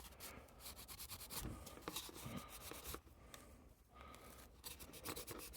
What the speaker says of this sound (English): just rubbing off the liquid latex and revealing what's underneath